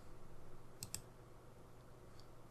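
Computer mouse clicks at a desk while working in Sage accounting software, two quick faint clicks close together over low background hiss, with no talk.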